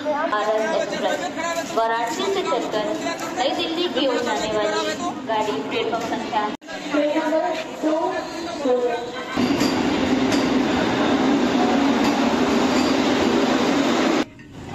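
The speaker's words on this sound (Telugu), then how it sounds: "ప్రయాగ్రాజ్ నుంచి ట్రైన్ అయితే స్టార్ట్ అయిపోయింది." Vande Bharat train pulling out of Prayagraj station, a low rumble and rattling carriage noise that swells into a steady roar, with people chattering nearby at first.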